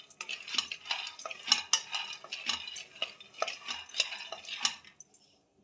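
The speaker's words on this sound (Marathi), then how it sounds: "शेंगदाणे भाजून द्यायचे, आपल्याला पूर्णपणे साल काढायची त्याची." Peanuts dry-roast in a pan as a spoon stirs them steadily, giving a brisk, close rattle and scrape with light metallic clinks, fading to quiet at the end.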